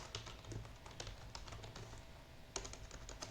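Computer keyboard typing a git command: a rapid, uneven run of soft close key clicks, with a slightly sharper tap near the end.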